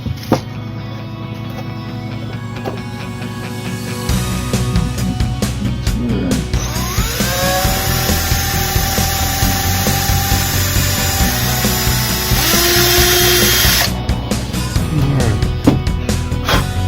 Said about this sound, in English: with the drill in the pilot hole